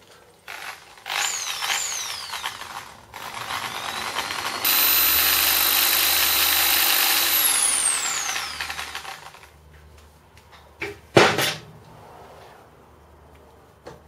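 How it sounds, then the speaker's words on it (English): A drill whines up and grinds steadily at high pitch through a metal washer for several seconds, then winds down, followed by a few sharp metallic clanks. "drill them out"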